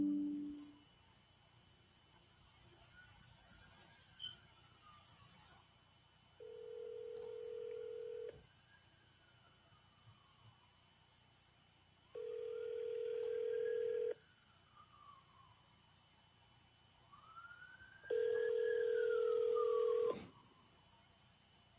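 Telephone keypad tones dial out a call, with blocks of steady dual tone beeps at a few-second intervals over faint line hiss and soft warbling signals, and no voices.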